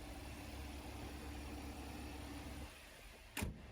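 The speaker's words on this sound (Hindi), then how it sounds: "तो ये था 2000 CC Portia R4 turbo engine." A 2021 Porsche Macan's 2000cc four-cylinder turbo engine idles with a steady low hum close by, then drops quieter, followed by a short sharp click or thump near the end.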